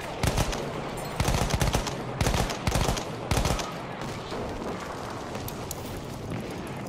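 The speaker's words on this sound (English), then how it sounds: "That's an enemy machine gun." Enemy machine-gun fire from the video game Battlefield 1 rattles in several rapid, loud bursts over about three seconds, then fades into quieter distant battle noise and wind.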